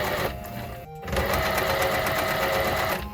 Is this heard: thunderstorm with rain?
no